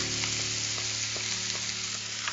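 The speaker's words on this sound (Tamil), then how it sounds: "வெங்காயம் போட்டு கொஞ்சம் வதங்கினதுக்கு அப்புறமா மஞ்சள் தூள், மிளகாய் தூள் சேர்க்கிறாங்க." Onions sauté in a pan with turmeric and chili powder for a Kerala-style curry, giving a steady close sizzle and crackle with faint stirring scrapes throughout.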